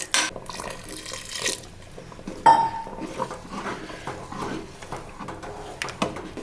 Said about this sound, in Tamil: சுடுதண்ணி ஊற்றிக்கலாங்க.